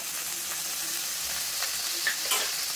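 Onion, ginger and garlic pastes with cumin, coriander and dried chilli pastes fry in a pan for chicken malai curry, giving a steady, close sizzle with a few faint ticks and crackles and no talking.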